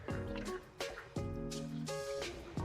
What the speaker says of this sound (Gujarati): ડ્રાય પનીર ચીલી બનાવવાનું છે એટલે થોડુંક જ પાણી નાખવાનું છે